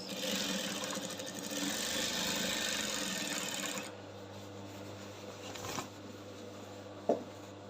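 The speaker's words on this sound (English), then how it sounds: "so as I'm sewing, I'm spreading it out, making sure it's fully spread out" Sewing machine stitching fabric for a bubu kaftan, a steady close mechanical whirr for about four seconds, then stopping and leaving a low hum and faint handling noises.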